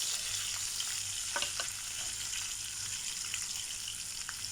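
Garlic and onion sautéing in a pan, a steady close sizzle and crackle of frying oil with a few faint clinks of stirring, no voices.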